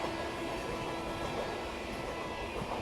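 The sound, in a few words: Mahamana superfast express train passing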